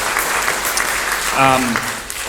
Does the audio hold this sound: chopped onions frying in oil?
no